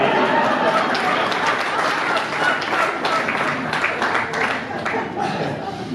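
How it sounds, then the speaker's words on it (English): Audience applause at a Celebration of Life memorial for Susan Robinson, given for Nick; steady clapping fills the room throughout, with murmuring voices and chatter mixed in. "Round of applause for Nick"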